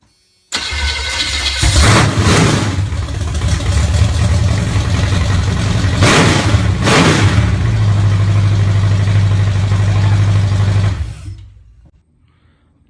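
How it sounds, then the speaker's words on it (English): A small-block V8 engine running on propane in an old truck starts up and settles into a steady, loud idle close by, with a couple of brief revs midway before it cuts off, leaving near silence. "That's a small block on propane."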